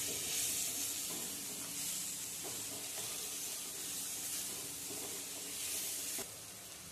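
Daliya masala with red chili powder sautéing in a pan gives a steady, close sizzle with faint scraping from stirring, continuous and without talk.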